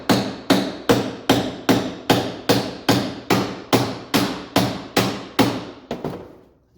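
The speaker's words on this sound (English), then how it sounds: "Let's see if we can't hammer it out." Steady metal-on-metal hammer blows on a stuck steering arm in an outboard motor's tilt tube, about a dozen evenly spaced strikes, each ringing briefly, close and loud, ending with a couple of quicker taps.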